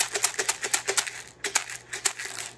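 Black peppercorns shaken in a container, a soft rapid series of rattling shakes in a steady rhythm with a short pause midway, close and fairly quiet.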